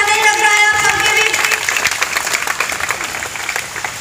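A crowd at a village panchayat welcome ceremony applauds with dense, sustained clapping that slowly thins out, while a voice talks over a loudspeaker at the start.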